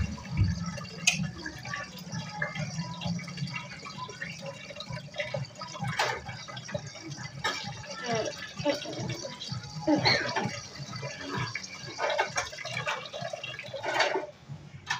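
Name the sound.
water pouring into container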